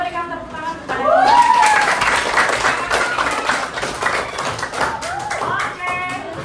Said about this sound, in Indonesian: kalau begitu kita berikan tepuk tangan kepada